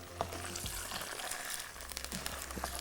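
Ginger and garlic fry in a pan with a continuous crackling sizzle, quiet and close, broken by occasional light stirring scrapes.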